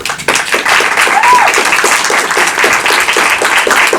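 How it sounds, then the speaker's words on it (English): Audience applause after a film screening and discussion, loud dense clapping starting abruptly and holding steady throughout. "And maybe we will give Francisco and Victoria and Cés a very, very big round of applause."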